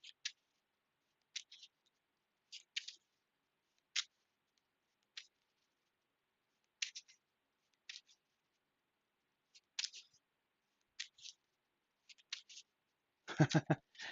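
Spider-Man themed game cards being shuffled by hand at a table, heard as scattered soft flicks and riffles spread through a quiet stretch, ending in a louder burst of shuffling.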